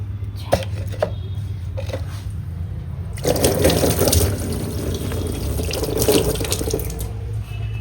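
Water runs steadily from a tap into clay pots in a home kitchen, a constant rushing flow that grows louder and fuller partway through, with a few clinks early on.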